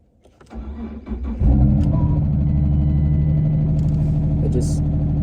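A car engine cranks and catches, then settles into a loud, steady idle rumble, heard from inside the cabin.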